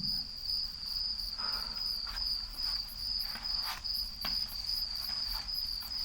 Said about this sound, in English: Crickets fade